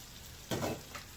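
Coconut milk poured into a hot pan: a short, quiet burst of sizzling flares up, fades, then gives a small second hiss.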